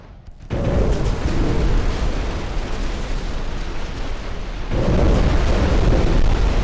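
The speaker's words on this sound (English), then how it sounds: "Ooh, ammo detonation." A warship's ammunition detonates in the naval combat game Ultimate Admiral: Dreadnoughts: a loud, sustained rumbling blast lasting several seconds, then a second heavy boom swelling on top, with no voices.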